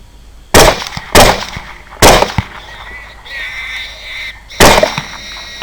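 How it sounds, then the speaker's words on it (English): Rifle shots fired at hogs, a boar and a sow, during a hunt: four loud, sharp cracks with short ringing tails, the first two close together, then one more after a brief gap and a last one after a longer pause. "I thought that shot should have finished in the boar, but it didn't."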